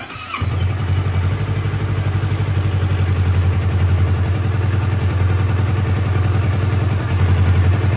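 A motorcycle engine turns over and catches, then settles into a steady, loud, close idle at about 1000 RPM, a continuous even throb that runs on alone.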